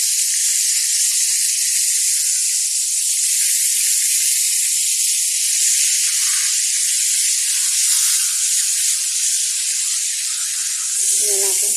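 Fish frying in hot oil gives a steady, loud, unbroken sizzling hiss that holds level throughout, with no talk over it.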